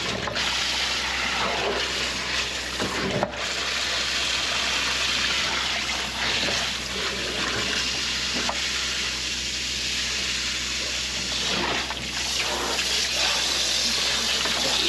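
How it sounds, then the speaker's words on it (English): Water poured into a sewer chamber at a newly built hospital with a blocked drain, a steady rushing gush that runs loudly and close throughout, with a few brief knocks along the way. "Let's get some water in here and see what this one's doing."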